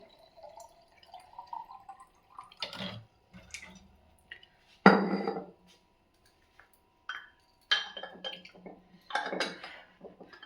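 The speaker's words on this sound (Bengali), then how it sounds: "এখন এই যে সব জল টলগুলো একটু ভরে টরে সব রেখে দেবো।" Water containers are filled and set down in a home kitchen, with sparse knocks, clunks and trickling water at uneven intervals and quiet gaps between, close and moderately loud.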